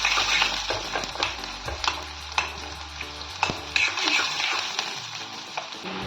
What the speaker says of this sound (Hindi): इस प्याज को भी हम हल्का सा गोल्डन होने तक भूनेंगे।